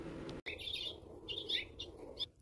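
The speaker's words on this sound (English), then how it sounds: "there's a bunch of birds chirping in the background" Several birds chirp and tweet in short high bursts across the outdoors scene, played at regular speed over a steady low background hum.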